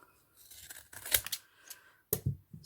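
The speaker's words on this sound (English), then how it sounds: "These are my fabric scissors." Fabric scissors slice through glitter ribbon in a few crisp, close snips, separated by brief pauses and faint rustling of the ribbon.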